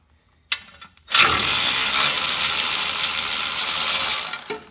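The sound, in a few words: ratchet removing galvanized bolts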